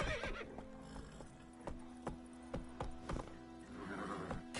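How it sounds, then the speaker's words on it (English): In The Witcher 3: Wild Hunt, a horse whinnies amid a series of hollow hoof clops and thuds, spaced irregularly, with a low steady tone underneath. "Turn around, you stupid fucking horse"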